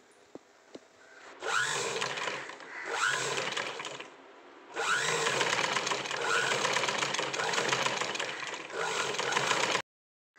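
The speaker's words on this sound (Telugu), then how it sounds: "దాన్ని నేను ఫోల్డ్ చేసి కుట్టుకుంటున్నాను." Sewing machine stitching a folded 1 cm cloth strip for a langa skirt, running in steady mechanical bursts with short pauses between runs, close and fairly loud, ending abruptly.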